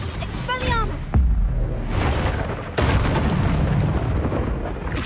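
Explosive fire spell blasts from a Hogwarts Legacy game battle, with a sharp boom near 1.2 s and another near 2.8 s, each followed by a dense roaring rumble. Whooshing magical tones come just before the first blast.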